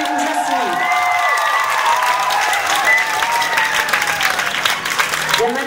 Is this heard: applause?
yes